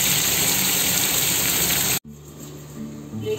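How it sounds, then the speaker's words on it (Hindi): Water gushes steadily into a pot for boiling hilsa fish pieces, a loud, close rushing pour that cuts off abruptly, then quieter kitchen background. "पानी देके इसको बॉयल कर लेंगे।"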